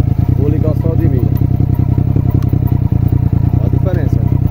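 Yamaha MT-09 Tracer 900 (2017) motorcycle engine idling steadily up close, a continuous low rumble throughout while someone talks over it.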